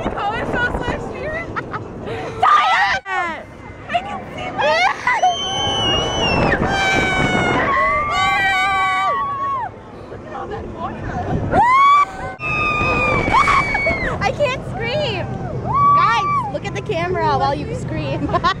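Riders on an amusement park ride scream loudly in many high, wavering voices that rise and fall over a steady rumbling roar, with people talking and shouting nearby.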